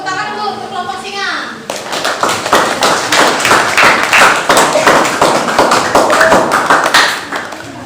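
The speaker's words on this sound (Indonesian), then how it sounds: "Tepuk tangan dulu untuk kelompok singa." A voice speaks, then a classroom group of children breaks into loud, quick, sustained clapping for another group, with scattered thumps mixed in before the applause tapers off.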